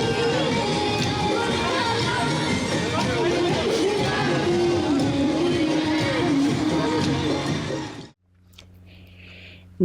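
Dense, steady crowd noise with cheering and babble along an India Day parade route, loud and continuous for about eight seconds before cutting abruptly to near silence with a faint low hum.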